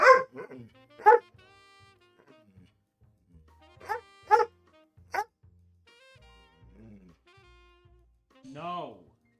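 Several sharp barks from a dog, single and in quick pairs, come close by at uneven intervals, ending in a drawn-out whining yelp, with a voice speaking faintly in between.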